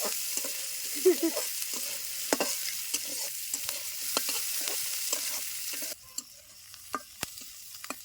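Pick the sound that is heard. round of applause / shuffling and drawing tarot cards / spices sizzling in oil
spices sizzling in oil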